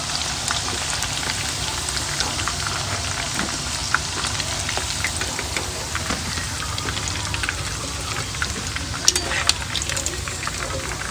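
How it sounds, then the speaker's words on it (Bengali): Chicken pieces coated with red chili powder fry in oil with a steady, dense crackling sizzle and scattered pops throughout, while a person talks over the cooking. "চিকেনগুলো আমার ফ্রাই করা হয়ে গেছে, দেখুন খুব সুন্দরভাবে ফ্রাই করা হয়েছে"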